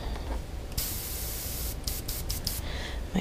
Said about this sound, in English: Make sure this is going to spray.